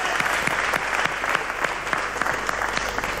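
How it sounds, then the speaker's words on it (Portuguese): An audience at a live concert claps in a brief, dense round of applause, with individual sharp claps standing out against the steady crowd noise. The clapping stays close and fairly loud throughout. "Uma salva de palmas, faz favor."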